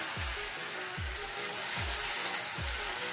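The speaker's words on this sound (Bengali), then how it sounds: "ওই তেলেই আবার দিয়ে দিচ্ছি ভেন্ডি" Okra (bhindi) frying in the same hot oil used for pumpkin, giving a steady broadband sizzle throughout, with a low thump recurring roughly every 0.8 seconds underneath; no talking.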